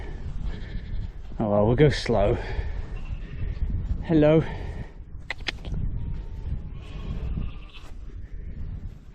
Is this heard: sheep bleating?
yes